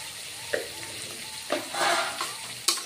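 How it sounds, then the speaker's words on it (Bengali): Spices frying with ground coriander and Kashmiri red chili powder in a pan, a close, steady sizzle broken by a few sharp stirring scrapes. "এবার অল্প ভেজে নিব।"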